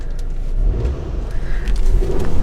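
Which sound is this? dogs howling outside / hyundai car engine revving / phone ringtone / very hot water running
hyundai car engine revving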